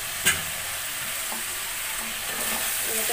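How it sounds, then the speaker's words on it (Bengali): Fish being stirred in a pan of fried spice masala with oil, salt and turmeric: a continuous close sizzle, a sharp clack of the spoon early on, and soft scraping as the pieces are turned. "নাড়ানো ভালো করে নেড়ে নিচ্ছে যাতে মাছের মধ্যে তেল নুন হলুদ সব কিছু মশলা যাতে ভালোভাবে ঢুকে যায়"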